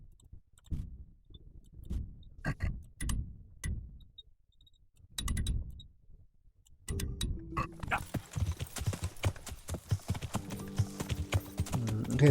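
Rhythmic horse hooves clip-clop on a road at night in Kingdom Come: Deliverance, with a wounded horse, at first in sparse separate strikes and then in a steady denser gallop with louder ambient noise.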